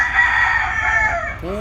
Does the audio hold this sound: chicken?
yes